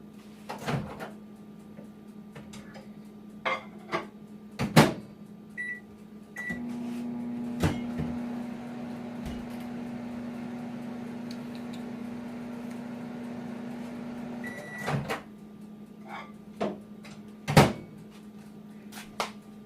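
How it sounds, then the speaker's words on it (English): A microwave hums steadily for about 8 seconds while heating a protein bar, with clicks, clunks and door or cupboard bumps before and after; quiet room, no talking. "Now I'm going to microwave it for just a few seconds."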